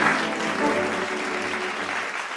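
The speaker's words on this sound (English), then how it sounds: "Another round of applause." An award ceremony audience at an art awards event applauds in a steady, dense round of clapping that holds evenly throughout, loud and continuous.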